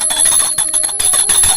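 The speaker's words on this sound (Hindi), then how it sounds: "अब हम बजाएंगे घंटी" A small brass hand bell rings rapidly and loudly during a Hindu puja food offering to Laddu Gopal, a continuous bright jangling peal with sustained high metallic tones, close and without speech.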